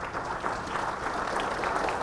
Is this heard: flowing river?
no